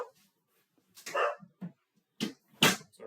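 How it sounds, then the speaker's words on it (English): A pet dog barks indoors, giving a few short, sharp barks in quick succession with quiet gaps between them, heard at moderate distance. "that's my dog barking."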